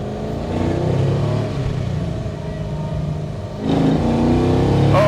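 LS V8-swapped BMW E46 wagon on a clear track, engine droning steadily under throttle then rising sharply in a louder rev toward the end, heard from inside the car with no talk.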